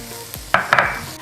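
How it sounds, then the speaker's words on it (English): Onions hit a hot pan and start sizzling for a stir-fried tofu dish, with a couple of sharp clanks and stirring scrapes over a steady, close frying hiss. "Make sure you wait for the pan to get hot. Okay, let's add the onions."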